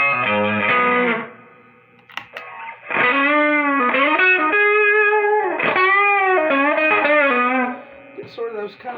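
Electric guitar played through an Electro Harmonix Hot Wax dual overdrive pedal on a compressed setting, sustained distorted chords and notes ringing out loud and alone with smooth, even sustain.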